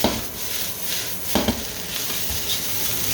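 Fried rice with vegetables is tossed in a pan on an electric stove, giving a continuous sizzle broken by soft scraping and stirring bursts, close and fairly quiet.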